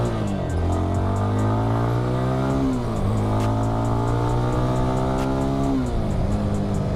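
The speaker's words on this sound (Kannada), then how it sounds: "ಇಂಜಿನ್ ಸೌಂಡ್ ಕೂಡ ತುಂಬಾ ಚೆನ್ನಾಗಿದೆ" A Yezdi Scrambler 350 motorcycle engine drones loud and close while riding on an empty road, a steady throbbing hum that rises in pitch under acceleration, eases briefly, then climbs again.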